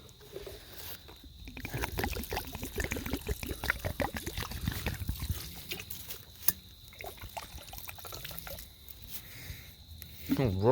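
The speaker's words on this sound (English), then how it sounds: "Let's water this up." Water poured onto plants at a bush campsite splashes and trickles in bursts, moderately close, with quieter pauses between pours, while someone talks intermittently over it.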